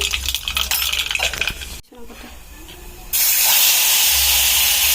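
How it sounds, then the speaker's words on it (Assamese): Nigella seeds (kalonji) hitting hot oil for a small-fish curry, a sharp burst of hiss and crackle that cuts off, a quieter pause, then a loud, steady spitting sizzle. "অকণমান কালজিৰা ফুটাই দিছোঁ।"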